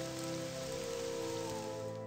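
Rain in the game Morrowind on the OpenMW 0.43 engine: a steady, even hiss of falling rain over sustained background music.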